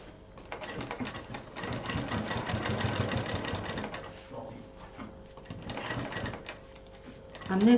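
A sewing machine stitching a handmade sling bag runs in steady whirring bursts through most of the stretch, easing off briefly midway before picking up again, close and moderately loud.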